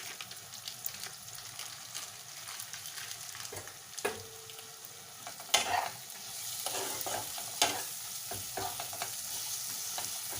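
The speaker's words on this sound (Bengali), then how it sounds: "এবার আমি মশলাটা ভালো করে কষে নেব।" Masala with Kashmiri red chili stir-frying in a pan for chicken bharta, a low continuous sizzle with occasional sharp spoon scrapes and knocks, fairly quiet and close, with a busier burst of stirring midway.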